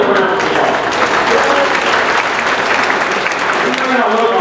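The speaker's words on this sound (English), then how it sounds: "Give it a round of applause." Audience applause after a trivia speaker's talk, a dense, loud, steady wash of clapping from a crowd filling the whole moment, with faint voices mixed in.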